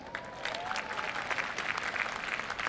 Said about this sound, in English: Please join me in applauding the accomplishments of these finalists for the Outstanding Graduating Senior Award.